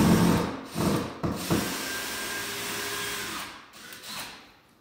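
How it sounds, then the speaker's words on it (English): Bursts of a power drill whirring and ratcheting while removing screws, followed by a steady mechanical whine that stops, then a few brief buzzes; close and fairly loud. "Okay, start the day with a drill."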